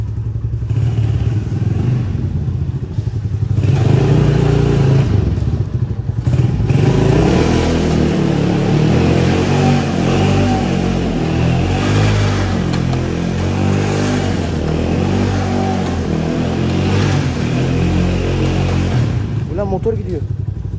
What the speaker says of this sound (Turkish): Motor gidiyor.